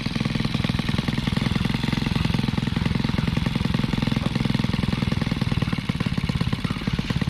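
Engine of a homemade farm machine, a DIY agricultural rig with cement-filled wheels, running steadily and loudly throughout with a rapid, knocking, chugging pulse and no pauses.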